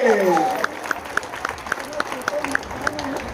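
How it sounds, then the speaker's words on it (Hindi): A crowd at an election rally breaks into applause after a voice trails off, with scattered claps and cheering continuing steadily at moderate volume. "जरा जोरदार ताली तो बजाइए।"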